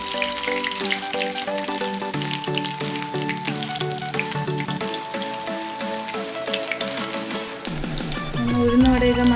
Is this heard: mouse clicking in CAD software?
no